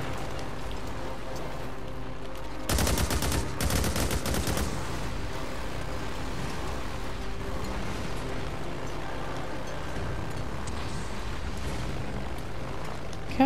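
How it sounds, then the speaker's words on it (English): In a video game, a rapid burst of automatic gunfire aimed at a bike rattles out for about two seconds, then gives way to a softer, rain-like background hiss. "Shoot the bike, Jake! Shoot the bike!"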